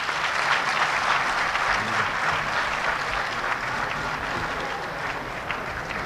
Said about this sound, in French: On applaudit très fort, s'il vous plaît.